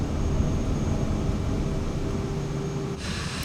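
A new plane's engine in Microsoft Flight Simulator 2024 roars steadily and loudly during takeoff, a dense continuous drone with a faint tonal whine that shifts slightly near the end.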